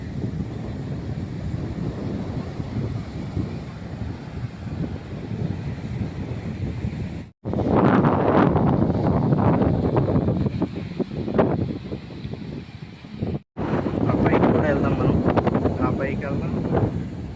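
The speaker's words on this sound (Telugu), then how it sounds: "గాలి ఉంది విపరీతంగా." Strong wind roars and buffets the microphone throughout on a beach, with a surf-like rushing underneath and two brief dropouts; a voice is partly audible beneath the gusts.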